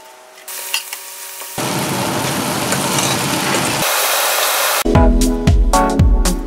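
Vegetables hit hot grapeseed oil in a pan with a loud, steady broadband sizzle lasting a couple of seconds, then a brief quieter gap, followed by sharper clattering and bursts of frying noise.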